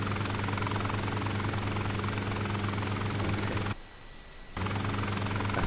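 A Bell 47 helicopter flies in Flight Simulator, its rotor and engine giving a steady, loud, low droning hum with even thumping. The drone cuts out for almost a second and then resumes at full strength.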